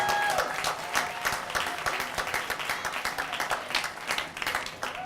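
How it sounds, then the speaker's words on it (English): An audience at a campus farewell event applauds warmly, a steady wash of many hands clapping at moderate distance for several seconds. "Let's give them a round of applause and welcome them to Goose Nation."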